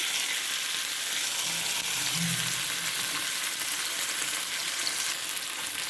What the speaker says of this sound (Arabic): نزلنا بماده دهنيه وحطينا فلفل حراق وفلفل عادي. هنحمرهم مقطعينهم صغيرين، هنحمرهم شويه